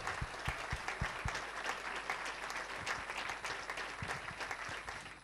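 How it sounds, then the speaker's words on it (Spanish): Continuous audience applause at a televised programming gala for Castilla y León TV, dense steady clapping with a few sharp, close claps standing out. "A Genjo, un aplauso."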